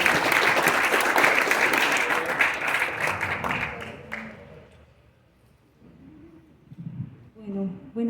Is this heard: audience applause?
yes